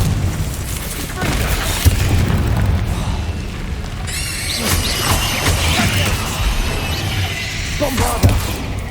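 Fiery spell blasts from Hogwarts Legacy land with booming explosions and crackling bursts amid a dense wash of battle noise, loud and close, with a voice calling out spells over it.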